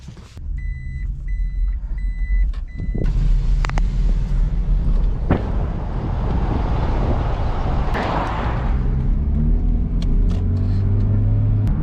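A Toyota Prius hybrid with a camper on its roof drives down a road at about 40 mph, giving a steady cabin rumble of engine and road noise. A few electronic beeps sound at the start.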